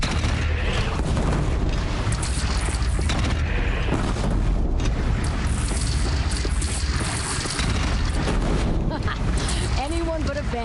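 Cannon fire in the video game Horizon Zero Dawn: deep booming blasts pound through a loud, busy battle mix, with voices breaking in over the chaos.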